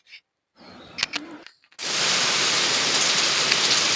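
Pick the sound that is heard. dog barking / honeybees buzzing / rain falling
rain falling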